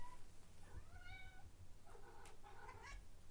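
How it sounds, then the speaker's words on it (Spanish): A house cat meows twice, faintly and a little distant, in a quiet room during a math lesson, a short rising meow followed by a couple of quick cries. "acá está mi gato acompañando"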